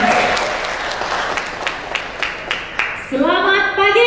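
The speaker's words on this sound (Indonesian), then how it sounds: "Kasih tepuk tangan dong buat Pak Kemas." Applause from an audience at a corporate health talk event, steady, moderately loud clapping for a few seconds before a voice begins speaking.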